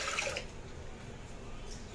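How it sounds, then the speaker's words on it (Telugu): Water poured over washed toor dal in a kitchen pot, a soft steady splash and trickle, close and faint. "వాటర్ వేసుకోవాలి,"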